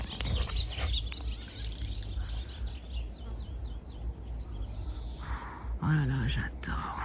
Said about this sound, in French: il y en a un bordel d'oiseaux là